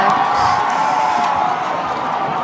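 A crowd at a football game between Liberty and Manchester roars and cheers from a distance, a sustained wash of voices with faint whoops at a steady level.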